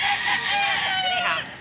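A rooster crows loudly and close at a Mantalungon, Barili gamecock farm, one sustained call lasting over a second with no talk.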